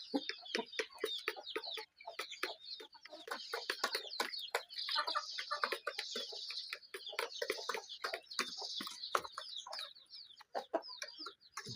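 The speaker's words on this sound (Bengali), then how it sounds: "অরিজিনাল কলম্বিয়ান বাহামা মুরগি প্যারেন্টস" Colombian Bahama parent hens and roosters, heavily feathered on the legs, cluck in a dense, continuous chorus of short repeated calls at moderate distance, with no talk over them.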